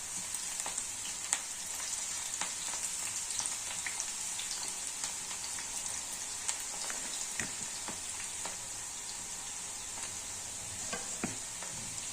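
Cabbage pakoda deep-fries in hot oil, a dense, even bubbling sizzle that carries on steadily with faint occasional clicks.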